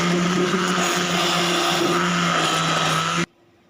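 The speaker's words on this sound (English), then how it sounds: "Beat the curd properly so that no lumps will be there." An electric mixer or blender beats curd to a smooth, lump-free consistency, its motor droning loudly and steadily up close before cutting off sharply, leaving near silence at the end.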